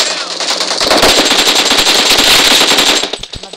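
Rapid automatic gunfire from the mobile battle royale game BGMI in team deathmatch, a loud, dense burst of shots running almost continuously for about three seconds before trailing off into a few scattered rounds.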